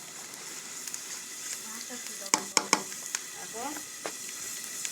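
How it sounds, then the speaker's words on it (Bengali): Onions frying in hot oil with five-spice seeds in a pan, a steady close sizzle with a cluster of sharp spatula scrapes and clacks midway, while someone speaks briefly. "পেঁয়াজ লাল লাল করে ভাজে নিচ্ছি"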